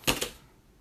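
Scissors trimming the ends of soft ribbon for craft note cards, two quick close snips in rapid succession, then quiet.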